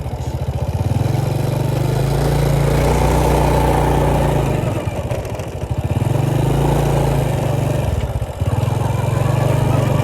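A motorcycle ridden along a village road in Xaysomboun province, Laos, with a loud, steady engine drone and throbbing low hum that dips briefly twice before picking back up.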